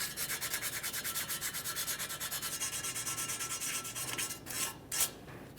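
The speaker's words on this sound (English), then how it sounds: "I'm using some fine sandpaper." Fine sandpaper scuffs the O2 sensor mounting surface on a 2008-2017 Mitsubishi Lancer 2.4L, a steady rhythmic rubbing of quick close back-and-forth strokes that ends in a couple of louder scrapes.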